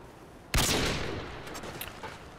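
Gunfire in the video game Modern Warfare 2, a sudden loud burst of shots that sets off a rolling, decaying rumble with a few smaller pops after, no voices.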